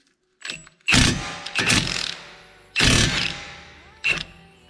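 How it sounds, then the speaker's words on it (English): An impact gun removes the brake caliper bolts on a 2018 Jeep SRT in several short, loud bursts, close by, with quiet pauses between them. "you wanna take your impact gun"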